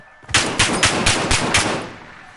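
A rapid burst of automatic gunfire from the video game Warzone, about six sharp loud shots in quick even succession, close and alone, then cutting off.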